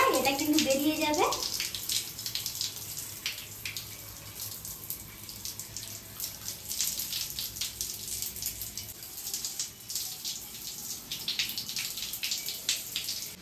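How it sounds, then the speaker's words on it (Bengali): Water runs and splashes steadily as hair is rinsed while washing the head, a soft continuous spattering hiss, with a voice briefly heard at the start before the water carries on alone. "প্রথমত জল দিয়ে ভালো করে মাথাটা পরিষ্কার করে নেব।"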